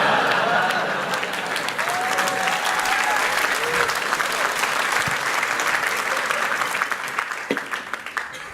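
Sustained applause from a festival audience at an XOXO Festival 2015 talk, steady dense clapping throughout with a few cheers and whoops mixed in, gradually thinning toward the end.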